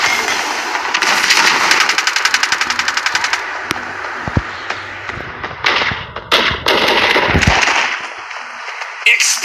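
Faith Arrow triple shot in the shooter game Hyper Front sounds as a rapid burst of crisp firing pulses followed by sharp impact blasts and whooshes, loud and close, with game voice lines mixed in.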